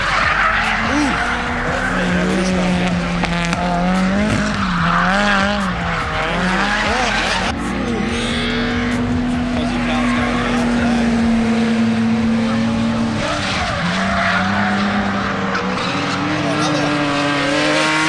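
A Nissan R34 Skyline drifts at Mallala Motorsport Park during a drift competition round, its engine holding a loud sustained note that rises and falls with gear changes while the tyres squeal and skid continuously, all close and intense.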